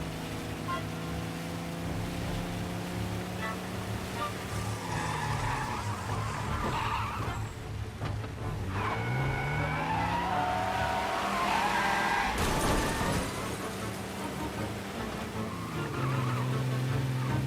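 Cars speed and skid through a chase in Mafia Definitive Edition, engines whining up and down in pitch with loud tire squeals and a sharp crash-like burst, sustained and close with no talking.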